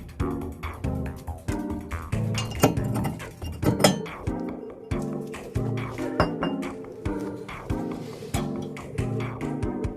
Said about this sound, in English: Now the brake disc and the inner brake pad can be removed.